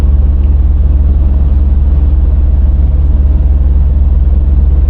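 A car cruises along the A75 road near Cairnryan, a steady low engine and road rumble droning evenly and loudly throughout from inside the cabin, with no change in pace.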